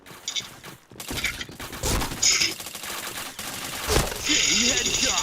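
Video game gunfire in a first-person shooter, dense rapid bursts of shots and automatic fire with impact and mechanical clatter, loud and close, overlapping throughout the clip.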